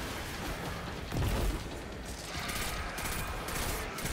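Gunfire in Destiny 2, rapid repeated shots forming a continuous fusillade with a heavier boom near the start, loud and close, no speech.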